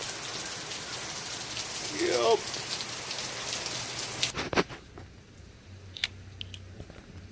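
Steady rain patters on a surface for several seconds, then eases into a quieter, sparser dripping with a few sharp taps; a voice speaks briefly.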